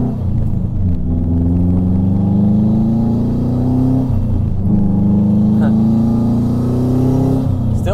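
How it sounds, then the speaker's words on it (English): A loud JDM Subaru WRX STI V7 with a 6-speed manual drones steadily while driving, its engine pitch rising and falling through gear changes, with a voice talking over the rumble. "especially when your car is loud."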